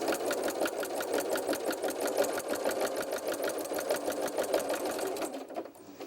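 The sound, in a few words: sewing machine stitching a seam on a baby bib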